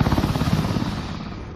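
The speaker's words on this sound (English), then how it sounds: "The boss is the helicopter." A boss helicopter in the Outbreak Origins virtual reality game, a loud throbbing rotor chop that fades slightly, with faint gunfire mixed in.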